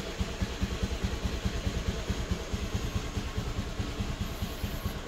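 A Honda Beat FI scooter engine idles steadily up close, a rapid even thumping pulse that stays constant throughout with no voices.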